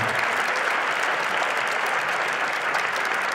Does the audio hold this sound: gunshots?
no